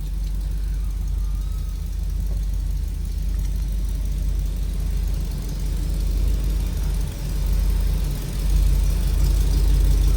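A 1973 Jeep CJ-5 4x4 idles with a steady low rumble, close and continuous, with slight swells in loudness toward the end.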